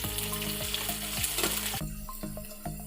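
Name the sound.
garlic, ginger and green chilli sautéing in a pan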